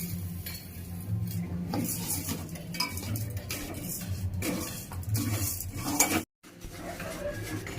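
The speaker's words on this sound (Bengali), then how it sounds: "চিনি দেওয়ার পরে এইভাবে নাড়তে থাকবেন, না হলে নিচে কড়াইয়ের নিচে লেগে যাবে।" Spatula scraping and stirring sugar in a metal wok while making sour chui fruit jelly, steady close clattering and rubbing with light sizzle, then a brief silent gap before stirring resumes.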